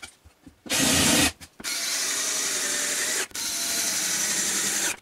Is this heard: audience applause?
no